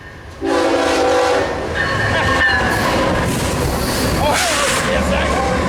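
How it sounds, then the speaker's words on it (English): CSX locomotive 741 passes at Fullerton with a loud, close horn blast followed by a sustained roar and rumble of the train rolling by, while people talk and exclaim over it. "CSX 741. Cool. I was hoping to see that locomotive."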